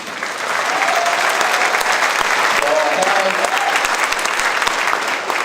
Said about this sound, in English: So a round of applause to our contestants.